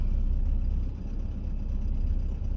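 A BMW M10B18 engine holds a fast idle around 1000 RPM during an auxiliary air valve test, a steady low hum with a slight dip midway, moderately quiet and with no voices.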